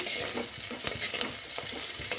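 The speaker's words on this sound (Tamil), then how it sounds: "அதில் ஒரு பச்சை மிளகாய் போட்டு தாளிச்சிக்கலாம்" Chopped onion and green chilli tempering in hot oil in a pan during a village-style tomato gravy cook, a dense, even sizzle with scattered soft clicks and stirring scrapes, with no talking.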